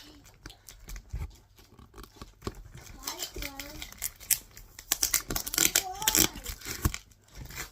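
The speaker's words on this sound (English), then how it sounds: "So first we're going to start with the bigger package. Let's unbox it." Packaging is torn and crinkled while unboxing a cream and brown Numatic Henry vacuum cleaner at home, with ripping and rustling bursts that grow busier toward the end as a young person talks and other children chatter nearby.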